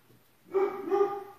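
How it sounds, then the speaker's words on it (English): A pet dog barks a couple of times in the background of a makeup session, two short harmonic barks at moderate distance with no speech over them. "And that's my doggy in the background."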